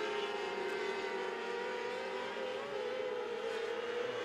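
600 mini sprint race cars roar down the backstretch of a dirt oval raceway, a steady sustained engine drone from a distance with a slight pitch shift, no voices.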